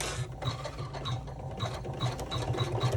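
An embroidery sewing machine sews a reinforcement stitch on a fabric pocket: a fast, close mechanical needle patter with a steady low hum and rhythmic ticking, moderately loud, no talk.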